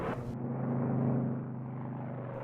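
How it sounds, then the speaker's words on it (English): A P-47 Thunderbolt's engine drones with a steady low, tonal rumble that swells slightly and then holds, preceded by a brief burst of broadband noise at the start, with no speech. "Lieutenant Easterling was flying the P-47 Thunderbolt, one of the most powerful planes ever to engage Hitler's Third Reich"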